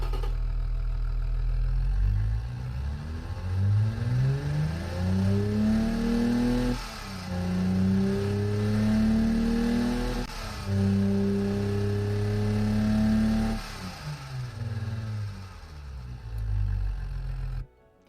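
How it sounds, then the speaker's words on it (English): A simulated car engine in the Automation game revs up repeatedly, climbing in pitch in several rising sweeps that cut off and drop back, loud and close with no talk, showing an engine reluctant to rev high. "It's a not very rev-happy engine."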